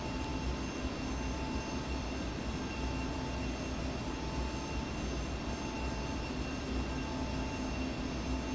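A Legacy 650 business jet in flight in the X-Plane 11 simulator, a steady, dense engine roar with a faint whine, continuous and loud from a cockpit perspective, with no talking.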